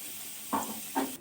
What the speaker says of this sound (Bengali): ভেজে নেব এইভাবে।